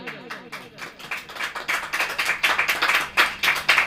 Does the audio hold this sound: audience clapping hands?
yes